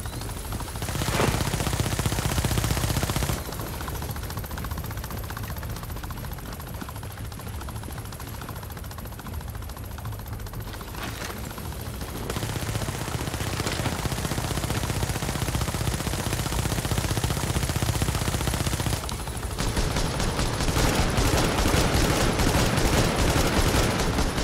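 Rapid video-game gunfire fights a boss called Colonel Bliss, with sustained bursts of automatic shots running continuously for most of the stretch at steady, loud volume, with a brief drop near the middle.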